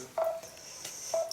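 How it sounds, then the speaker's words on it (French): A mobile phone rings indoors during a knitting session, giving two short, steady electronic tones about a second apart with a thin high tone sustained between them, moderately quiet and heard alone. "c'est mon téléphone qui sonne"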